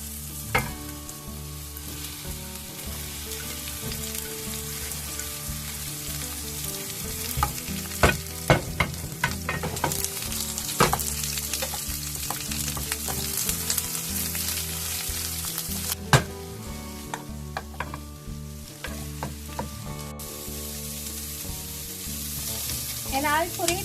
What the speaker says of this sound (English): stir fry all the vegetables except leeks and some red pepper and green pepper over high heat